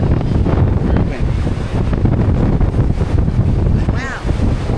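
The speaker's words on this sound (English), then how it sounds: "Very windy." Strong wind buffets the microphone in loud, continuous gusts and low rumble aboard the Royal Caribbean cruise ship Harmony of the Seas, with a brief whistling tone near the end.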